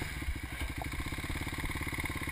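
A dirt bike engine labouring in second gear on a bumpy trail ride in Okinawa, a steady close putt-putting thrum with a fast, even pulse and no clear revving.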